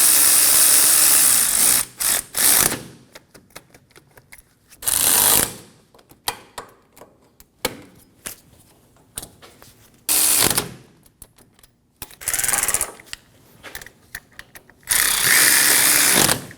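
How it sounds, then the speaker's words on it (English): A ratchet wrench snugs wheel bearing bolts in a cross pattern on the front steering knuckle of a 2008-2015 Scion xB, with several loud bursts of fast ratcheting clicks separated by pauses and scattered metallic taps. "Snug the bolts down in a cross pattern."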